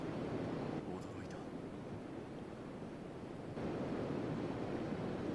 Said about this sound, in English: The splashes of the waterfall softly hit us.